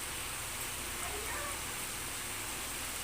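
Rain falls in a continuous, even hiss of moderate loudness, with no voices and no distinct individual drops standing out.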